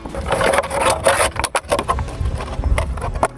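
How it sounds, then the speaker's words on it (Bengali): Freshly trapped fish being cleaned and cut with a blade on a wooden surface at a jungle riverside, giving busy, close scraping and knocking strokes in an uneven rhythm with outdoor background noise. "যে মাছগুলো ফাঁদে ধরা পড়েছে সেগুলো এখন পরিষ্কার করে কাটছি"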